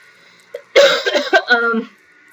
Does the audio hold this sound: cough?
yes